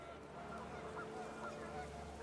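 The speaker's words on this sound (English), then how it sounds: "The wind picked up and panicked geese appeared and quickly went." Panicked geese honking faintly in the video game What Remains of Edith Finch, brief calls over a low windy background.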